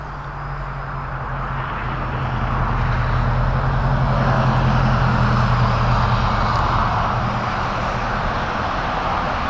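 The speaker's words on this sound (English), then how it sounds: "Gorgeous looking plane. It's just a pain in the butt to fly over here." Micro Draco RC model plane flying over a yard, its electric motor giving a steady buzzing drone that swells a little louder midway and holds; no talking.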